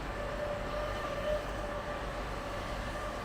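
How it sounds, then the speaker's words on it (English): Camera drone flying overhead above a gorge at El Questro, a steady droning engine tone with faint high whine holding level throughout, fairly loud and continuous with no speech. "Do you hear that? That's the drone."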